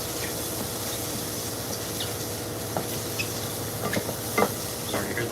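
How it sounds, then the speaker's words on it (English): Sliced mushrooms sizzle steadily in a hot pan for mushroom truffle mac and cheese, a constant close frying hiss with a few louder crackles and pops near the end. "you hear them sizzle, that means they're cooking"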